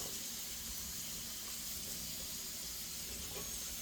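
Potato pieces sizzle on a flat griddle, a steady, even hiss of frying fat with no breaks, soft and continuous throughout.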